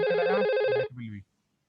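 An IP phone rings with a steady, warbling electronic tone for under a second while someone talks over it, then brief speech follows and the line goes quiet.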